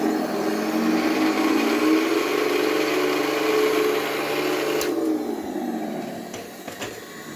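Heng Long 1/16 Tiger 1 RC tank with smoke unit accelerating, a buzzing electric motor whine that rises in pitch, holds, then drops away, with a few small clicks near the end.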